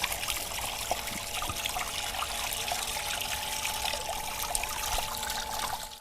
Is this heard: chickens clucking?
no